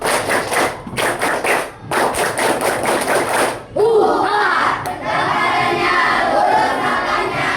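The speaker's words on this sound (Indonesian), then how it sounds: "Tepuk semangat Pencaksilat." Pencak silat class doing a group clapping chant, with rhythmic bursts of claps and shouted voices in patterned groups, then the class breaks into loud cheering and excited chatter.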